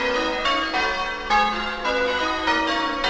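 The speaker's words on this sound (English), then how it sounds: "type in here church bells and let's preview the first" Church bells ring in a steady sequence of loud, resonant strikes with overlapping ringing tones, heard alone as a short preview of a stock sound effect.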